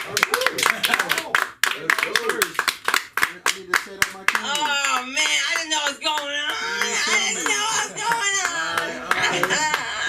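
Comedy open mic crowd clapping for comedian GQ, sharp individual claps at first, then someone talks over continued applause and scattered laughter.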